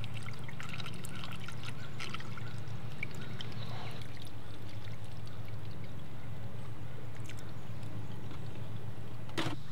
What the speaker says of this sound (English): I can start to see it filling up in the radiator here